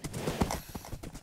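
Horse hooves clip-clop in quick, uneven steps during a video game horse race, fairly loud and continuous, with a brief whinny-like tone mixed in.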